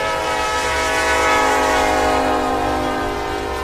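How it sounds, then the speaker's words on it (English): A train whistle in the railroad town of Bremen, Georgia, blows loud and steady for several seconds, a sustained, rich horn tone with no other sounds on top. "That train whistle is something you can't miss during a visit to Bremen."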